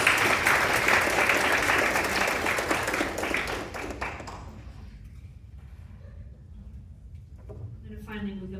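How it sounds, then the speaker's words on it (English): A room of listeners at a pitch competition symposium claps loudly for a presenter for about four seconds, then the applause thins out and fades, leaving a quiet room with faint movement and a brief voice near the end. "Let's give him another round of applause."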